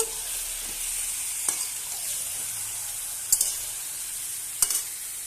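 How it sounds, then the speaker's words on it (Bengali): Chicken pieces sizzle steadily in a pan over lightly fried onions, with a few sharp scraping knocks as a spatula stirs the meat; close, continuous frying hiss with no talking. "এবার আমি মাংসটা দিয়ে দেবো। ভালোভাবে নেড়ে নেব।"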